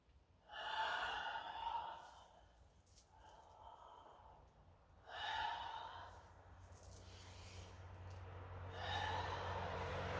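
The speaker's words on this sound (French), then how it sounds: "on va aller monter sur l'inspire et descendre sur l'expire" Slow deep breathing during qigong practice, with three long audible inhales and exhales, each a soft airy rush that swells and fades, close and alone.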